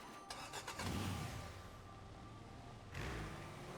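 A car drives in the video game Sand Land, with a rising engine rev and then a sustained rumbling drone that swells again near the end, steady and close with no talking.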